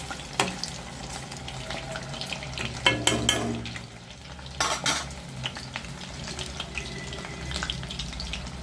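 A potato snack fries in oil over a medium flame with a low bubbling sizzle, broken by clinks and scrapes of a utensil turning pieces in the pan, without speech.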